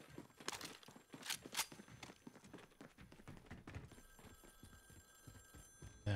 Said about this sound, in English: The hell's that phone ringing?